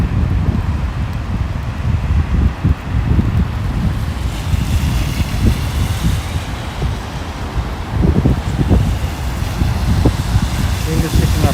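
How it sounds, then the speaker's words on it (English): Strong wind buffets the microphone with a constant low rumble, gusting throughout on a rainy night in Tokyo, with water and a voice faintly underneath. "Yeah, it's pretty windy here."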